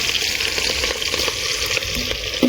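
Chilies sizzle hard in hot oil in a home kitchen, a close, steady frying hiss with light stirring and no voices.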